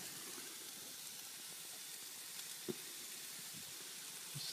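Bell peppers and onions cooking over an Emberlit UL wood-burning camp stove outdoors, a faint continuous sizzle and hiss with a couple of soft ticks and pops, no voices.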